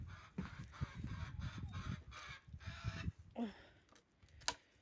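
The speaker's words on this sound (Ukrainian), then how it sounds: "Курка щось знайшла і ходить кричить." Repeated harsh clucking calls from a nearby chicken, coming in uneven bursts with short gaps, fairly quiet with no talking.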